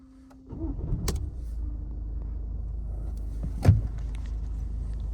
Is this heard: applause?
no